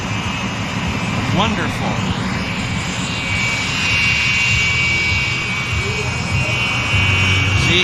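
Frecce Tricolori aerobatic jets at the CFB Cold Lake airshow produce a steady, distant jet roar that persists throughout, with people talking briefly over it.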